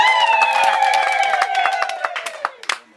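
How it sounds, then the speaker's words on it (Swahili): A church congregation claps and cheers in celebration, with high ululating trills riding over dense applause that thins toward the end. "Hayajatosha bado. Makofi na vigelegele."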